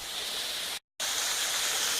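A small waterfall at Salt Fork State Park gives a steady, loud, broadband rushing roar. The sound cuts out briefly near the middle, then comes back at the same level.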